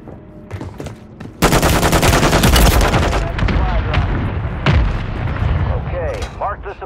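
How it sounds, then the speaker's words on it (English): Mortar strike explosions in Call of Duty Warzone, a sudden loud barrage of booming blasts and rapid gunfire lasting several seconds, close and heavy, with voices talking over the din. "Hostile mortar strike near your position."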